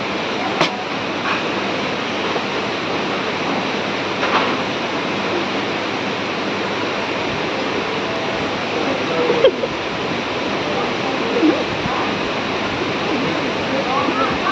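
Hillard Waterfalls on Koh Samui, Thailand, give a steady, broadband rush of falling water that holds constant and close throughout, with a few faint brief sounds over it.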